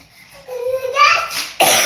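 A voice makes a short vocal sound, and then a single sharp, close cough bursts out right at the end.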